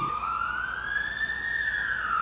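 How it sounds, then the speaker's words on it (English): An ambulance siren wails from outside, its tone rising and falling gently as it passes at a moderate distance over low background noise. "I'm so sorry for that ambulance."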